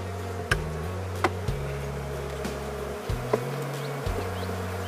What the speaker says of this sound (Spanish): Es un apiario con 6 colmenas aquí.